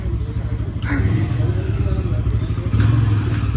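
A motorcycle carrying two riders runs with a steady mid-pitched engine drone, rising slightly in loudness partway through, along with some clattering as it moves along the road.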